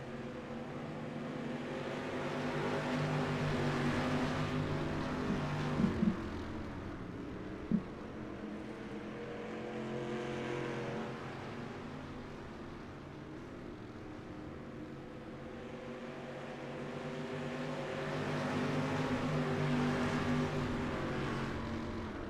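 Dirt track race cars roar around an oval during a late-race battle, a steady distant engine drone that swells and fades as the pack circles, with a couple of faint sharp knocks.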